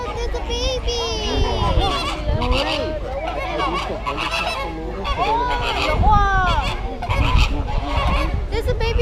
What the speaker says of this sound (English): There's a baby duck over there.